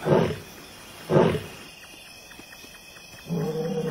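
A lion roars twice in deep, heavy bursts, followed by a rhythmic series of short grunts, then a lower rumbling call begins.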